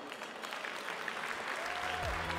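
A crowd applauds at a Tarentaise cattle show after three cows are praised, steady clapping of moderate loudness running through, with a faint voice and a brief tonal sound near the end.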